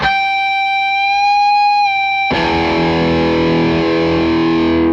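An electric guitar note rises in pitch as a string is bent behind the nut, then a loud strummed chord rings out and sustains with a bright, slightly distorted tone.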